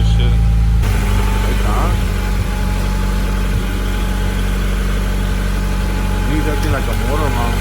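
A Honda Accord CB7 idling with a deep, steady low rumble from the exhaust, loud and close, while people talk over it now and then.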